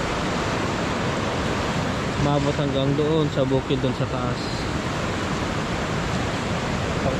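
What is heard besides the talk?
strong rushing floodwater after typhoon Pepito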